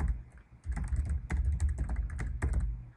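Rapid keystrokes on a computer keyboard while a website name is entered into a host field, a steady close run of crisp clicks over a low hum for a few seconds.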